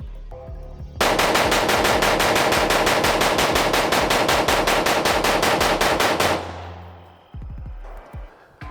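Rifle fired in a rapid, steady string of shots for about five seconds until the magazine runs dry and the action locks open, followed by a few clicks and handling noises.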